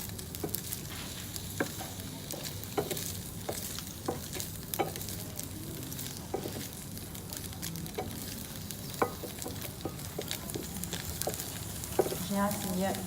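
Tofu frying in a pan on a gas stove gives a steady, close sizzle with scattered crackles and utensil taps, continuing evenly throughout with faint speech in the background.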